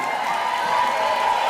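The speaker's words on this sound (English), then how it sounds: "One more big round of applause for the spring 2025 graduates of St. Louis Community College, Florissant Valley." Steady, even applause from a large audience at a nursing pinning ceremony for spring 2025 graduates of St. Louis Community College, Florissant Valley, a continuous wash of clapping with no distinct peaks.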